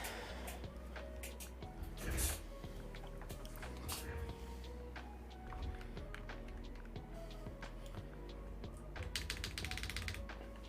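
Keys clatter on a wired mechanical keyboard in a steady, irregular run of sharp clicks with brief pauses, close and fairly quiet, with no talking.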